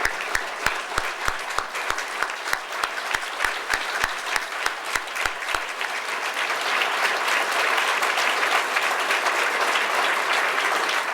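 An audience claps to honor civil rights veterans at a heritage walk dedication ceremony in Tallahassee, first in slow rhythmic unison claps, then breaking into dense, sustained applause that fills the space.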